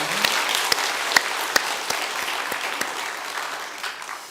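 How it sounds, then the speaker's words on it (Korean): Congregation applauding during a Korean church Sunday worship service after the choir and ensemble sing, a steady wash of many hands clapping with a few sharper claps standing out, sustained evenly throughout. "우리 한번 박수 한번 하십시다"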